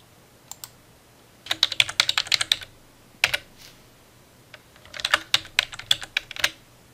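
Typing on a computer keyboard, close and clear, in two quick bursts of clicking keystrokes with a few isolated taps and short pauses between them.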